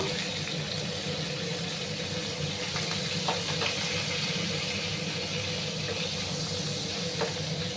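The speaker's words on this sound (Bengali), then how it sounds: "এবার আমি ঢেঁড়স বাদামগুলো দিয়ে দেবো।" Okra and peanuts sizzle in hot oil spiced with a pinch of turmeric, a steady faint hiss with soft crackles and occasional pops throughout.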